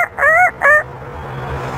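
An African grey parrot imitates a rooster's crow with two short, clear, harmonic calls close by, followed by quiet room noise.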